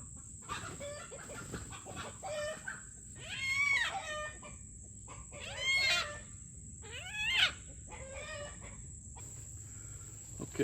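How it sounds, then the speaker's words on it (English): A farm chicken clucks and squawks in several short bursts near the greenhouse, close and clear over a quiet background with a steady high whine. "that chicken will be out here again."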